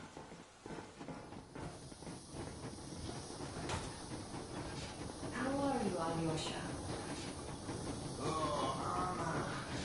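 A steam train moving in Metro Exodus, steady hissing and rolling rumble running throughout at moderate loudness, with someone speaking briefly over it.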